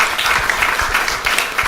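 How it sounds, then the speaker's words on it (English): An audience at a CEO summit event in Sydney breaks into applause, a dense wash of many hands clapping at once, steady and fairly loud. "Give a round of applause."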